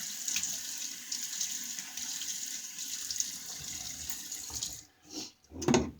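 Tap water runs steadily into a sink while a face is wetted before a wet shave, a constant hiss for several seconds, followed by a few closer splashes as the stream is interrupted.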